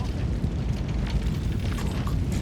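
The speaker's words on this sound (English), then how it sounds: "Explosions are pretty good as well, I have to say." A deep, rumbling explosion from the Crysis Warhead video game rolls on as a sustained low boom that fills the whole moment, heavy and close with no clear break.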